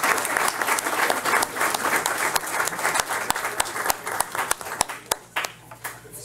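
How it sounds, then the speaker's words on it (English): An audience at a county board of education meeting gives a round of applause. The clapping starts thick and steady, then thins out into scattered individual claps before fading. "Well, let's give them one more round of applause,"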